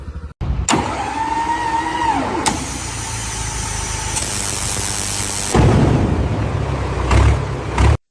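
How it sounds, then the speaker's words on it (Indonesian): Motorcycle engine starting with the ignition key on an automatic scooter: a rising whir of the starter catching into a steady engine run, close and loud with no talking, then shifting to a rougher idle. "kita coba nyalakan kunci kontaknya hingga mesinnya menyala"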